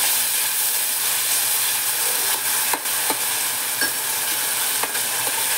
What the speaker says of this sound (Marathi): चला आपण आता टाकूया कांद्याची पेस्ट। हलवून पूर्ण घ्यायची।